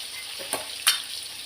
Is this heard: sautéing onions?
yes